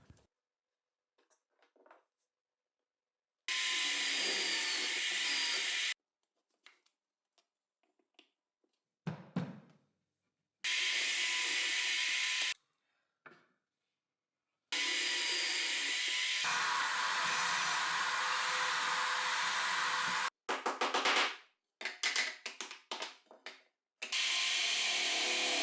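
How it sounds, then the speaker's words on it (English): A drill bit boring pilot holes for a steel rod on a combined drill press, lathe and router table, heard as several separate loud, steady whirring bursts of a few seconds each, with quiet gaps and small handling noises between them. "With a bit, I pre-drill the exact position of the holes for the steel rod."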